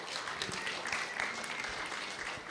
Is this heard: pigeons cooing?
no